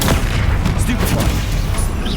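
Bombarda spell explosion in Hogwarts Legacy, a loud, dense burst of booming, crackling blast sound filling the whole moment, with a voice speaking over it.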